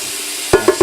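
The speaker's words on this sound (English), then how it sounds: "we're sauteing these leeks about until they're just kind of getting soft" Leeks sautéing in a pan for Irish seafood chowder: a soft steady sizzle, then three quick close stirring knocks or scrapes near the end.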